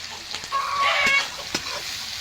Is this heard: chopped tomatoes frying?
yes